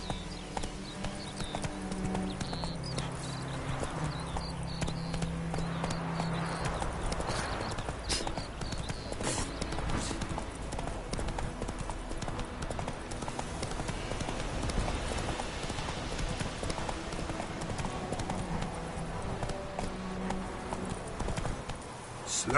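Roach the horse's hooves clip-clopping steadily in The Witcher 3, a rhythmic walking beat under game music and ambient sound, with occasional voices.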